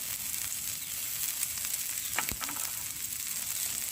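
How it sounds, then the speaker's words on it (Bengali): Black cumin seeds sizzle and crackle steadily in hot oil, a soft close-up hiss with a few sharp pops and a brief stir partway through. "এখন দিয়ে দিচ্ছি কালো জিরে"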